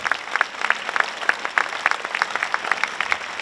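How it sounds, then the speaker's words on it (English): A school assembly audience claps, a steady run of sharp, close hand claps at a quick uneven rhythm for the whole span, with no voices over it. "Let's give them a round of applause for all they do to make everything happen."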